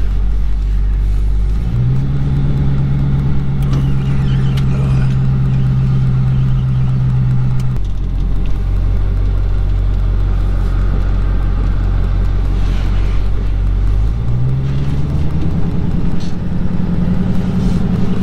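A custom 1969/2019 Plymouth Road Runner engine rumbles loudly from inside the car during a ride, with a strong low idle, rising revs held for several seconds, a drop back, then another climb.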